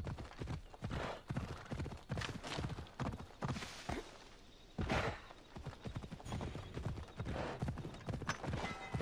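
Hooves of a horse clip-clop at a steady gallop in the game Assassin's Creed Odyssey, a fast continuous rhythm with a brief whinny partway through.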